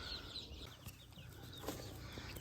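Chickens cluck and murmur softly on a livestock farm, the scattered calls fairly faint against a steady outdoor background hum, with no talking.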